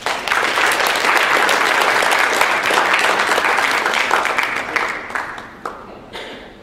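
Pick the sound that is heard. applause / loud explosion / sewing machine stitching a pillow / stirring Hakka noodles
applause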